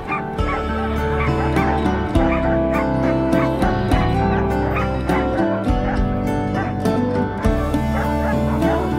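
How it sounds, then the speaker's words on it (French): Many sled dogs at a kennel of about a hundred dogs, barking and yelping in a dense, continuous chorus with strong sustained tones, loud and close throughout. "les chiens de traîneau sont vraiment adorables"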